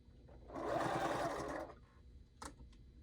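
Sewing machine stitching fabric for a snowman pot holder, one close, fast whirring run of about a second, followed by a few faint clicks and handling sounds.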